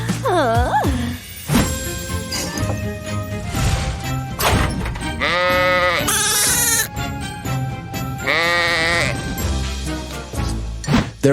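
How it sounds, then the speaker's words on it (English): Sheep on a farm bleating in loud, wavering cries that repeat several times over a cartoonish backdrop with other noises mixed in. "There are sheep here."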